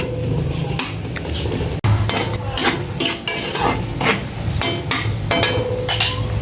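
Sliced onions sautéing in a home kitchen pan, with repeated scraping and stirring strokes of a spatula against metal over a continuous sizzle, close and fairly loud.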